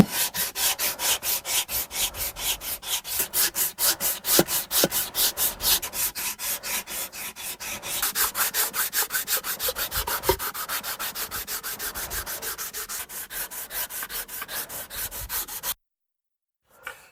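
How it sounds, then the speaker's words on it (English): Rhythmic hand sanding on electric guitar wood, quick back-and-forth rasping strokes repeating steadily and close, speeding up midway, then stopping abruptly. "And we'll do some hand sanding on that."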